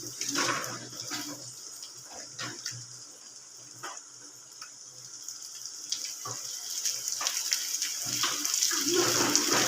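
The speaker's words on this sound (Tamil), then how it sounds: "அடுத்து சேர்ந்தாப்பில் வெங்காயத்தையும் போட்டுக்கோங்க." Onions and green chillies fry in a pan for a drumstick flower poriyal, giving a continuous close sizzle dotted with light utensil clicks that grows louder toward the end.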